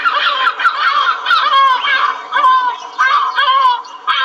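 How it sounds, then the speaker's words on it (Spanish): Gull calls at a beach ring out loud and close, a run of harsh, wavering cries repeated throughout with brief pauses between bursts. "Una gaviota, muy bien."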